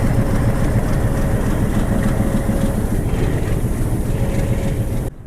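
A WDM4 diesel locomotive engine running loudly nearby in Gujarat, a constant heavy rumble with a faint humming tone on top, steady throughout before cutting off abruptly at the end.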